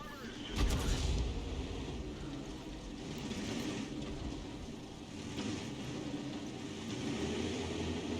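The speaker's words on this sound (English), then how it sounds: "good shot on the turret of the IS there" A tank cannon shot striking the turret of an IS tank in a video game gives a heavy, booming blast near the start, followed by rumbling low engine and battle noise that swells and fades, with a voice talking over it.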